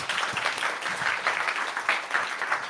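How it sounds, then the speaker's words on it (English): Audience applause after a talk at a tech conference, dense rhythmic clapping from a room of people at steady moderate loudness, with no speech over it. "All right, let's give Jordan a round of applause."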